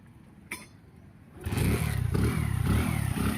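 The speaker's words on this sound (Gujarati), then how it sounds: "અવાજ તમે સાંભળી શકો છો, એકદમ મસ્ત ફાયરિંગ થઈ ગયું છે એન્જિનનું." A restored 2010 Hero HF Deluxe motorcycle fires up after a quiet moment and a single faint click. Its single-cylinder engine then runs close and loud with a steady, rapid putter that holds to the end.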